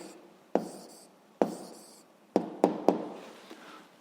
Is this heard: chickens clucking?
no